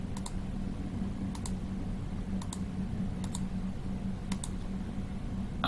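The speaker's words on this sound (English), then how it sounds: "I make one click with the right button" Computer mouse clicking in dental planning software, a series of crisp, evenly spaced clicks, several of them doubled, heard close over a steady low background hum.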